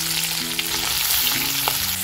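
Onions and chilies frying in mustard oil and rendered pork fat, a dense, loud sizzle that stays steady throughout with some low humming tones underneath and nobody talking.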